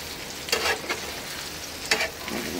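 Potatoes fry in a pan with a steady sizzle, broken by two louder scraping bursts as they are stirred, each a short rustling swell over the hiss.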